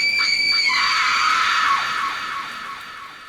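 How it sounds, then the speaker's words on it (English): A woman's high, sustained scream rings out loud and close for nearly two seconds, then trails off and fades as it drifts away, set within a horror story in the Appalachian mountains. "Another scream, closer now,"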